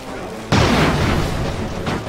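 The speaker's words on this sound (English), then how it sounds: "Oh, we hit him with a bomb!" A bomb blast strikes a ship in the airship battle game Airships: Conquer the Skies, a sudden loud boom that cuts in abruptly and rumbles on for over a second, with a smaller burst following.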